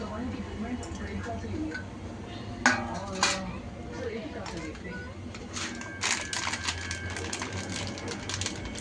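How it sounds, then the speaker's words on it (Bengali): Cucumber, tomato, onion and chili tipped into a bowl for aloo kabli, giving several clattering knocks of utensils and dishes at close range while someone talks throughout. "আমি শশাগুলোকে এখন দিয়ে দিচ্ছি শশা টমেটো পেঁয়াজ লঙ্কা সবগুলোকে দিয়ে দিলাম"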